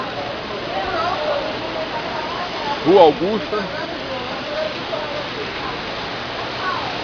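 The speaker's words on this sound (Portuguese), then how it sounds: "De repente cai um temporal desse." Heavy rainstorm pouring down on a São Paulo street near Avenida Paulista, a steady dense hiss of rain throughout, with a voice speaking briefly near the middle.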